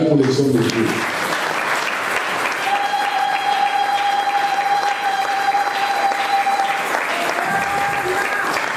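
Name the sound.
audience applause for the men of God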